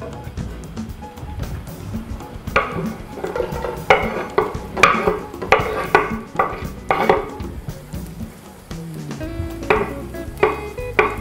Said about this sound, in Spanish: Voy a adicionar al aceite de oliva la cebolla.